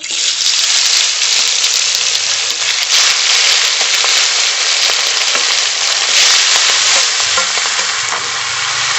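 Spiced chicken meat sizzles loudly in a hot pan, a dense, steady frying hiss with stirring scrapes, filling the whole stretch close up.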